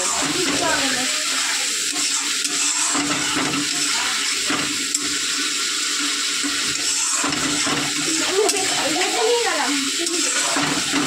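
Water is poured into masala frying in a pan for a Bengali tangra fish curry with potato and bori. A steady, watery rush and hiss runs close and continuous for about eleven seconds, with faint background voices.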